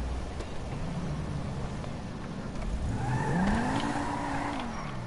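A video game car engine drones steadily, then revs up and climbs in pitch before easing off, with a faint tire-squeal quality, heard alone and moderately loud.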